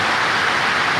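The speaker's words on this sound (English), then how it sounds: "It is raining hard." Heavy rain pours down steadily outside an aircrete shop, a dense, even hiss of big drops that fills the whole moment without a break.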